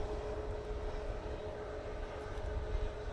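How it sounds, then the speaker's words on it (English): A Finnair Airbus A320 on final approach at windy Manchester Airport, its engines a continuous broad roar with a faint steady tone, wind rumble buffeting underneath throughout. "that Finnair is moments away from touching down."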